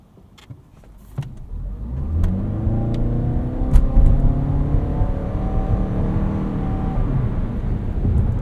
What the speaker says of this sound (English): see how it does off the line here.